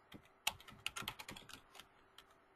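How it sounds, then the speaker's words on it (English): Someone types on a computer keyboard in a quick, irregular burst of crisp key clicks, close and fairly quiet, then a single late keystroke. "I didn't catch all my typing"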